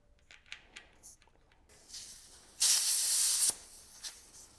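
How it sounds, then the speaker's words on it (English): Air hisses out of a mountain bike tire as it is bled down, first in a few short spurts and then in one loud, sharp burst lasting about a second, followed by quieter bits and small handling noises. "we'll bleed it down and then we will add the PD's sealant"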